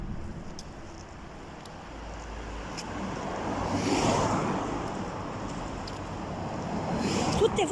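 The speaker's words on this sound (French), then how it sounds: "Toutes les voitures que vous entendez, c'est tout pour le terrain de foot" Cars drive past on a road leading to a football pitch, a broad rushing whoosh that swells to a peak midway and then eases off, backed by steady outdoor wind rumble.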